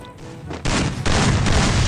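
Shotgun blasts from a 4v4 online shooter match, a loud booming burst that rolls into sustained heavy gunfire and impacts, dense and close with no pauses.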